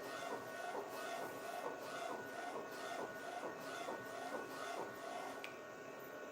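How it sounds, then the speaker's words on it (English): A DTF direct-to-film printer runs with a steady mechanical whir and rhythmic shuffling passes of the print head, repeating about once a second at moderate volume. "but it's a DTF printer"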